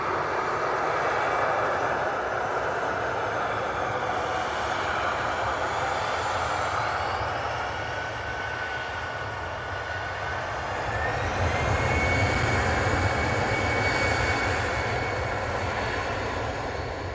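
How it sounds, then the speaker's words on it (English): Brussels Airlines jet in Star Alliance livery taking off from Manchester Airport, a loud continuous engine roar with a faint rising whine, holding strong throughout and swelling slightly toward the end. "So there goes the Brussels in the Star Alliance livery, going off to proper Brussels."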